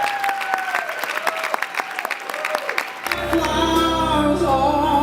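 Wedding guests applaud for the newlyweds Mr. and Mrs. Austin Isaias, a dense steady clapping that carries through, with music coming in partway and playing beneath the claps.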